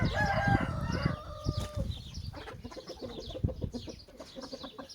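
Several Indian game roosters crow, one loudly up close and others farther off, with clucking hens and a busy farmyard murmur beneath.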